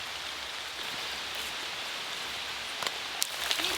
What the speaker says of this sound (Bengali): আর এদিকে দেখুন বৃষ্টি শুরু হয়ে গেছে। এই বৃষ্টি আর থামার নয়, বৃষ্টি চলতেই থাকবে।